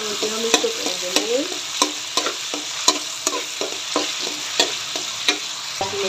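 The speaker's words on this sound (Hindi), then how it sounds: "तो अभी मैं डाल दूँगी लहसुन अदरक का पेस्ट 1 चम्मच।" Garlic ginger paste sizzles loudly in a hot pan while a spoon scrapes and stirs it in steady, repeated strokes, cooking for a Masaledar white chana dish; no talking.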